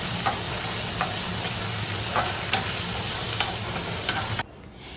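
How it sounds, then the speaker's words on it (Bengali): Chopped onions fry in oil in a wok with a loud, steady sizzle, punctuated by repeated scraping stir strokes at a regular pace, before the sound abruptly drops away near the end. "কড়াইতে দিয়ে দিয়েছি পেঁয়াজ কুচি এবং তেল পেঁয়াজটাকে ভালো করে বেজে নেব"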